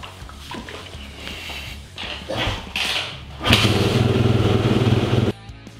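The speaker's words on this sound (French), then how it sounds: "démarrez et faites chauffer votre moto" A motocross motorcycle engine sputters through a few bursts, then catches and settles into a loud, steady idle as it warms up before an oil change. The engine cuts off abruptly near the end.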